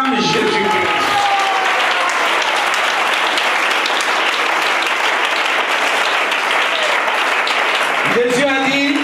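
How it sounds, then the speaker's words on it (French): Sustained applause from a church congregation, loud and steady for several seconds, with a voice speaking briefly at the start and again as the clapping ends. "On acclame Jésus-Christ"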